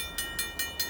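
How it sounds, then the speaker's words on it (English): A train rolls past in the snow, its wheels making four evenly spaced clacks over rail joints in under a second, a near, rhythmic clatter with no voices. "Here comes the train already."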